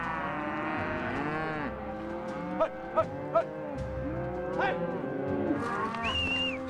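Cattle moo repeatedly during a roundup on a family ranch, the long overlapping calls of a herd filling the air, with a few sharp cracks briefly standing out midway.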